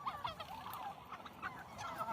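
Turkeys and chickens on an organic farm cluck and call in quick overlapping bursts at close range over a low background murmur.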